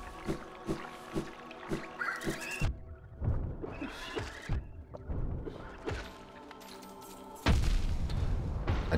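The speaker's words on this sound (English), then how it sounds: "Just stand in the explosion." Explosions go off in a video game as a run of heavy booms and sharp thuds, some spaced and rhythmic and others clustered, ending in a louder sustained blast.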